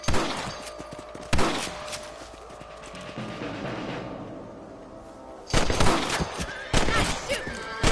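Gunfire in Red Dead Redemption on PS4: loud sharp shots burst out near 1.3 s and again from about 5.6 s into a dense volley, with hoofbeats and game ambience filling the gaps.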